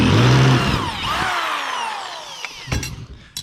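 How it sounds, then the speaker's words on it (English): Power drill enlarging bolt holes in metal brackets for ammo-can motorcycle saddlebags, a loud whirring burst that winds down, followed by a few short clattering knocks near the end. "we can take our drill bit that's just a little bit bigger than the bolts that we're going to use, and we'll go ahead and finish these holes out."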